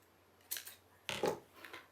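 Scissors trimming embroidery hoop ornament material, two short, close crunching snips roughly half a second apart in a quiet room.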